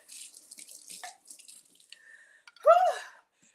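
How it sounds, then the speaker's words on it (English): Faint tap water runs into a kitchen sink while something is rinsed, a soft hissing spray that swells into a brief louder gush near the end. "One moment, let me rinse this off."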